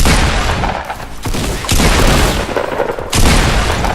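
Loud gunfire in Fortnite Battle Royale, dense bursts of rapid booming shots in three or four clusters with short gaps between them, close and heavy, with no speech.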